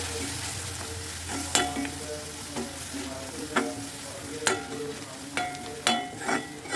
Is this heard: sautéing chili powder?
yes